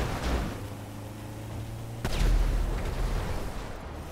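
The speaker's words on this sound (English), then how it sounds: "Vehicles explode on impact." Vehicles exploding on impact in the video game Grand Theft Auto V: a deep booming blast opens, then a second heavy explosion hits about halfway through, leaving a loud low rumble and crackle, with no talking.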